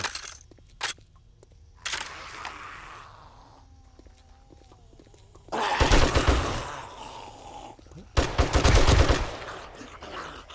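Gunfire in the survival game 7 Days To Die comes in a couple of heavy, close bursts of rapid shots, separated by quieter stretches with distant groans and scattered single shots.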